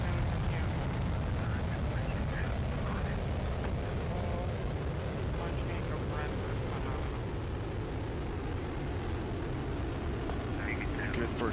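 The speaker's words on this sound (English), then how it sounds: "102 tons of thrust from the four boosters and single engine" Soyuz rocket liftoff, its four strapped-on boosters and single core engine giving 102 tons of thrust, makes a steady, loud, broadband roar that holds unbroken throughout.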